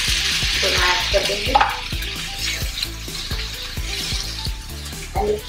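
Chopped onions, browned, fry and sizzle in a home kitchen pan before tomatoes go in, with steady crackling under a regular ticking beat and occasional stirring clinks.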